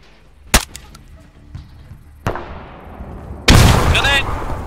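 Gunshots ring out in a military shooter game: three sharp cracks spaced about a second or two apart over quiet ambience, the last one louder and followed by a rumbling tail, with a voice briefly in the mix.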